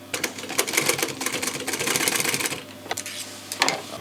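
A sewing machine stitches a leather seat centre panel for a Land Rover Defender 90 soft top, a close rapid clatter in short bursts that stop and restart, with no talking.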